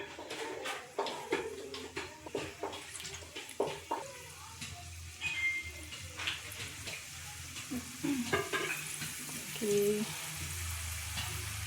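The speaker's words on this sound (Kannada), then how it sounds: "ಆ ಕಡೆ ಈ ಕಡೆ ಟರ್ನ್ ಮಾಡಿಕೊಂಡು ಇದನ್ನು ಬ್ರೌನ್ ಕಲರ್ ಆಗೋವರೆಗೂ ಫ್ರೈ ಮಾಡ್ಕೋಬೇಕು" Karjikayi sweet dumplings fry in hot oil with a soft, continuous sizzle and bubbling, broken by light stirring and turning clinks, close and quiet with no talking.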